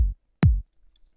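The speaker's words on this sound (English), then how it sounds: "Kick drum sounds like this." An electronic kick drum from a progressive house production, heard as two short, punchy low thumps with a pitch drop, the second louder and followed by near silence.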